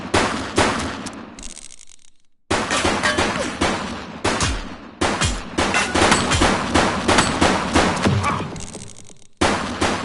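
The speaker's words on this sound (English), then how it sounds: "She's shooting!" Gunshots in the police game The Precinct, repeated sharp loud bangs in quick rapid-fire strings with short silent gaps between bursts, close and punchy.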